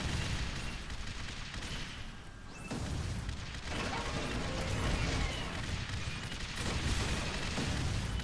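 Gunfire and mechanical clatter in the Air Mech Arena video game, bursts of rapid shots and crashes over a dense, steady din, fairly quiet overall with no speech.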